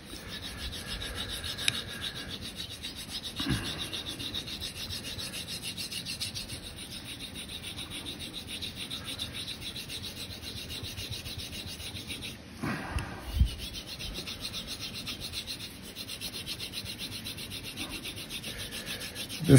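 A straight razor being honed on a Belgian Blue whetstone while setting the bevel: a steady, close rubbing rasp of steel on stone, continuous through the stretch with a few brief clicks and knocks, no talking.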